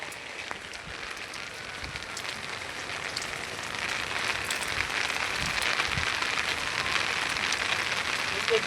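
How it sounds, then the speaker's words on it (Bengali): Heavy rain pours steadily onto a rooftop and surrounding surfaces, a dense, loud hiss that grows stronger partway through and continues without pause. "কত বৃষ্টি হচ্ছে আমাদের এখানে।"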